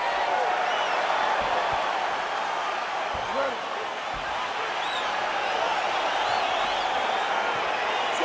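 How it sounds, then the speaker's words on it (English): A large arena crowd roars steadily as a UFC heavyweight bout gets underway, a dense continuous wall of cheering with scattered shouts and a referee's voice briefly above it. "crowd getting excited as this fight gets underway"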